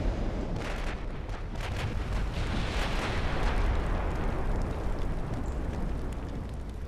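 Battleship naval gunfire in the Ultimate Admiral: Dreadnoughts naval game, plunging shells striking deck armor; a continuous loud wash of rumbling booms and crackling bursts with no talking over it.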